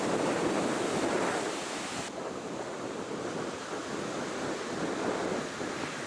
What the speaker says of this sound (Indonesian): Di pantai ini memiliki deburan ombak yang tak terlalu besar